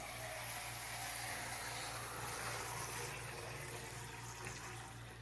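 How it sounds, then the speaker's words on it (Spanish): Liquid water poured into a container during a classroom science lab, a steady, soft splashing rush that runs quietly and continuously with no talking. "Lo que tengo aquí es agua líquida. La vamos a poner en un recipiente."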